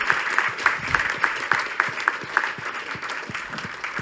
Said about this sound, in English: Join me in a round of applause for all of our candidates.